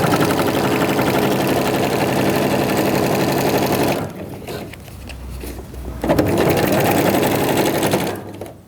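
Sewing machine stitching the lining of a clear-plastic organizer pouch, running in a steady loud whir for about four seconds, pausing briefly, then resuming for the final stretch.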